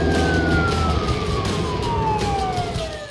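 Police siren in a Playmobil film, loud and close, wailing in a steady falling sweep over a rumbling engine, with no voices.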